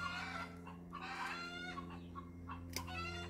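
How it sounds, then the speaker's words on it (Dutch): Chickens clucking in a garden, a run of soft, repeated clucks and short squawks with one sharper cry near the end, fairly quiet over a steady low mechanical hum. "De kippen roeren zich."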